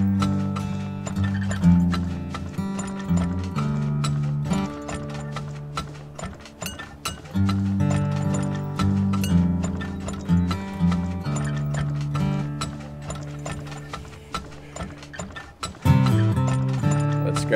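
Game-style horse hooves clop in quick repeating rhythm over a busy musical backdrop, with mechanical clicks and an occasional whinny.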